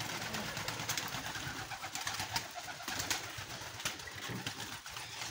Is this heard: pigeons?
yes